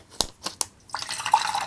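A few distinct drips land, then a steady trickle of about 250 milliliters of water pours into an ultralight backpacking stove cup close by, rising in pitch slightly as it fills.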